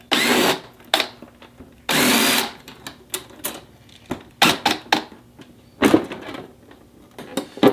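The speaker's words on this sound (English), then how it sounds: "we're going to take out the 2 side screws completely, and we're just going to loosen this one up quite a bit" Power driver removing screws from a Harley bagger windshield in short bursts of whirring, separated by quiet gaps, clicks and handling knocks, close and fairly loud.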